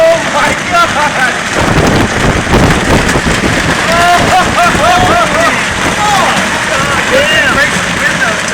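Golf-ball-sized hail pelting down during a Phoenix, Arizona storm, a dense, steady clatter of impacts mixed with wind and rain noise, loud and close throughout, with excited voices talking over it.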